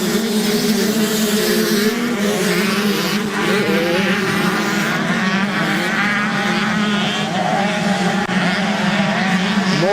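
Junior 125cc two-stroke motocross bikes race together down the main straight, a loud continuous high-pitched buzzing wail of several engines rising and falling as they pass close by.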